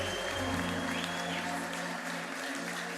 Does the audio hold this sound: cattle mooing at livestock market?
no